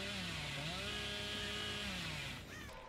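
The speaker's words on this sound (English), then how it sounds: "we can hear a chainsaw!" A chainsaw revs in the horror video game Dead by Daylight, its buzzing engine whine wavering up and down as it runs continuously and loudly, easing off near the end, with no voices over it.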